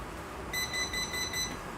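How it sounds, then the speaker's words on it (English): A home alarm sounding a run of rapid, evenly pulsed high beeps for about a second, moderately loud over steady room hiss with no talk. "there's my alarm"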